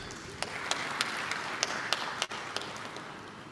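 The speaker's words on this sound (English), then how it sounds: "Ladies and gentlemen, can we clap for our chief guest?" An audience at a partnership forum applauds the chief guest, a soft, steady wash of many hands clapping from a distance, with a few sharper taps standing out, no voices.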